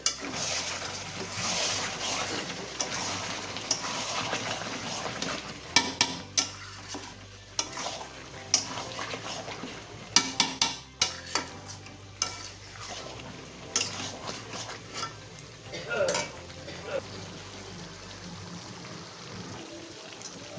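Chicken kaliya with raisins and chopped coriander stirred in a sizzling pan; repeated scraping strokes of a spoon clack against the metal over a steady frying hiss, close and fairly loud.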